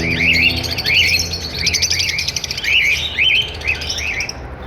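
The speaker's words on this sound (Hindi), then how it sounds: "ब्लू अपलाइन का ब्रीडर पेयर आ गया" A blue opaline breeder pair of birds chirps close by, rapid repeated warbling tweets in quick bursts over a low background hum.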